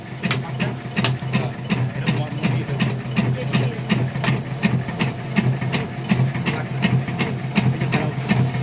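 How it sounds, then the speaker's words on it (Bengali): An electric motor drives a batasa sweet-making machine boiling cane jaggery, giving a steady low hum with a fast, regular train of sharp mechanical clicks close by throughout. "এই মোটর চলছে, এই বাড়ির লাইনে হয়ে যায়।"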